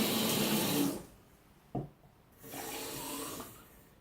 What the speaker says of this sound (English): Next, I'm just going to take it over to the tap